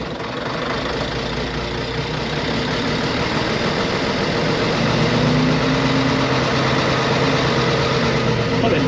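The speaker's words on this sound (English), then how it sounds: "It's sounding a lot better, this engine." A steady, rumbling diesel engine of an old London double-decker bus drones continuously at close range, loud and unchanging, with a slight rise in pitch partway through.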